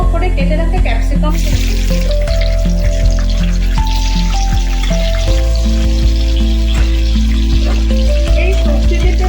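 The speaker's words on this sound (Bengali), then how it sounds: "এবার এই পনির ভাজা তেলটার মধ্যে আমি যে ডুমো ডুমো করে কেটে রাখা ক্যাপসিকাম" Diced capsicum sizzles in the hot oil left from frying paneer, a steady crackle running throughout with scattered pops and clinks of a utensil against the pan.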